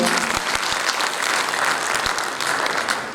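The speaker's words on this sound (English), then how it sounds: "So a big hand of applause for them" A big round of audience applause in a hall during a university founder's day celebration, dense and energetic clapping sustained across the whole stretch, tapering slightly at the end.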